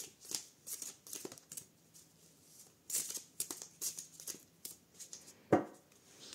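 Tarot cards shuffled by hand, an irregular run of soft riffling bursts and papery flicks, close and fairly quiet, with one sharper slap near the end.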